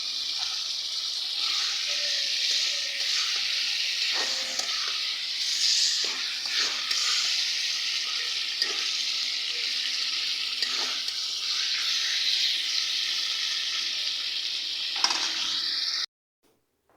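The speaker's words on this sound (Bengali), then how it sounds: "মাছটাকে আমি এই মশলা দিয়ে একটু কষাই নিব" Fish sautéing in spice masala in a pan gives a steady, close sizzle and frying hiss that runs unbroken for about sixteen seconds and then cuts off abruptly.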